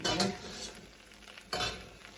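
Risotto rice being stirred in a pan just after a ladle of broth goes in, two scraping strokes about 1.5 seconds apart over a soft simmering sizzle, close and fairly quiet.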